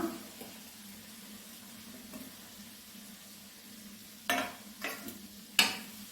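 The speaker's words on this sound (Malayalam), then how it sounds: "അപ്പം വിനീഗർ തിളച്ചിട്ടുണ്ട് അപ്പം നമുക്ക് ആദ്യം നെല്ലിക്ക ഇട്ട് കൊടുക്കാം" Gooseberries go into boiling vinegar for pickle, with a faint steady simmer and sizzle, then a few sharp, close stirring clatters and scrapes toward the end.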